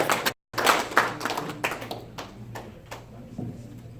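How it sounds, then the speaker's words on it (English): A small group claps for a speaker during a live-streamed BAOSA NA event. There are a few distinct sharp hand claps that taper off into sparse, scattered claps after a brief dropout. "give me a round of applause."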